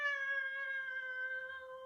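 A single drawn-out cat meow, steady and tonal, heard clearly with nothing else around it.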